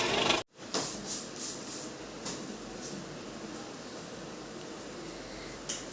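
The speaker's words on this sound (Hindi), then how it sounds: "हमारी बाड़ी का पंखा बहुत तेज़ आवाज़ करता है" A loud electric fan in a rural farmyard shed runs with a steady broadband whoosh after a brief cut at the start, continuous and close with no talking.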